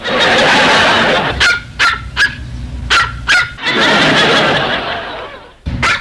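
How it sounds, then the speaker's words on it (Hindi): A dog barks in short bursts on a television, a few sharp yips spaced apart, between stretches of dense background noise from the television. "ऐसे लगा जैसे कुत्ता भौंके।"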